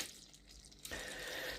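Sugar syrup for glass candy bubbling in a pan over low heat, a faint quiet hiss that swells abruptly into a steady, louder fizzing simmer partway through.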